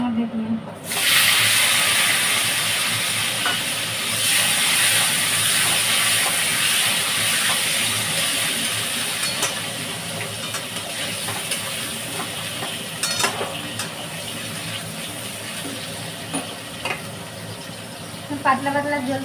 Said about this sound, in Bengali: এই যে লাউ ডাঁটা আর আলুগুলো এখন একটু ভেজে নেবো তেলের মধ্যে দিয়ে